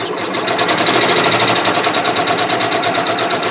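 A Janome MB4 embroidery machine stitches with the first needle, a loud, steady rapid mechanical chatter with a fast, even rhythm and no voices.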